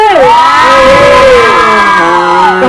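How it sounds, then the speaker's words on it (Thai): A large crowd screams and cheers loudly for a few seconds, high voices whooping together in a sustained roar. "ถ้าเป็นกำลังใจให้น้องเต๋าขอเสียงกรี๊ดดังๆหนึ่งที"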